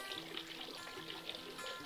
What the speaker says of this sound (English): I am adding in half a cup of water just so that this blends easily